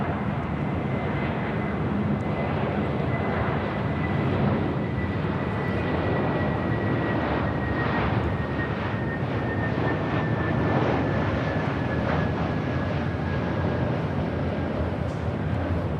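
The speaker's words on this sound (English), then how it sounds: "This A321 Neo, just 1 year old, delivered to Delta in November of 2022." A Delta Airbus A321neo airliner at LAX, about a year old, roars steadily and loudly throughout, a broad continuous engine rumble with a faint high whine and no talking.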